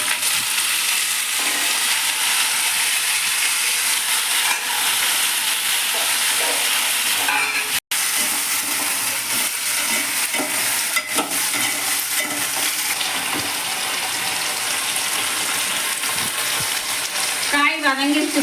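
Eggplant, drumstick and potato frying with onion and green chili in oil tempered with mustard seeds and urad dal, a loud, continuous close sizzle with scattered stirring clicks throughout.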